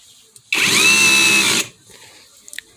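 Bauer brushless rotary hammer runs once for about a second, a loud high-pitched whirring drill burst that starts abruptly and cuts off, with quiet room sounds before and after.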